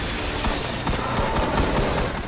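Rapid gunfire from a heavy-recoil weapon in the video game Destiny: The Taken King on PS4, a dense burst of loud, closely spaced shots running without a break.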